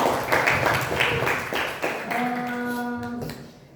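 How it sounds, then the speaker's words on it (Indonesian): Audience applause at the close of a moderated session: a few seconds of scattered clapping taps that thin out, with a sustained tone entering near the end. "Boleh kita beri tepuk tangan yang meriah untuk kita semua."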